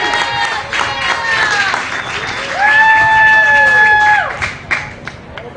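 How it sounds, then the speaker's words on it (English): Spectators at a high school baseball game applaud a player's introduction, with a crowd's clapping and some cheering under a sustained whistle-like tone that rises and holds through the middle, fading into scattered claps. "Please give a round of applause to Dylan Godina."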